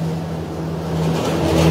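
Steady low drone and broadband hiss of cold-storage refrigeration units keeping bare-root rose bushes at 2 degrees, a constant mechanical hum that grows slightly louder toward the end, with no voices.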